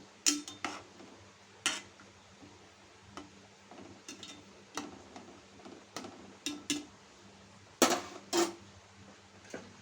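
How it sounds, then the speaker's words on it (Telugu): A lid is set onto a pot of Andhra-style pala bontha fish curry with a series of sharp metallic clinks and clatters, some close and loud, over quiet kitchen background. "మూత పెట్టేస్తున్నాను ఒకసారి అయితే చూద్దామండి కర్రీ"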